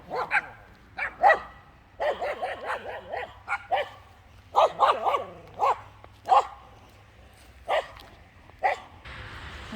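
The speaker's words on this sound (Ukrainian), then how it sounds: "Дуже багато собак і страшно ходити тут. Одна на нас дуже сильно лає." Feral dogs bark repeatedly and aggressively, sharp close barks in irregular bursts with brief pauses between them, on a street in Kramatorsk.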